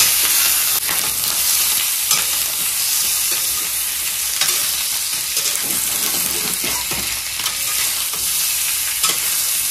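Pork frying in its own rendered fat in a wok gives a loud, close, steady sizzle, with a few spatters and stirring scrapes breaking through the hiss and no voices.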